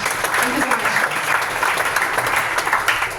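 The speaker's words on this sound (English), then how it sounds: "Let's give a round of applause." Audience applause at a tech demo night, a steady wash of clapping from a crowd filling the room for a few seconds, with voices mixed in beneath it.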